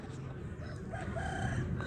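A rooster crows at a distance on a farm among other fowl, a faint drawn-out call rising over a low murmur of background noise.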